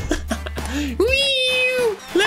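A cartoonish cat meows in a video game, several short mews followed by one long drawn-out meow, loud and close, with a voice speaking between them.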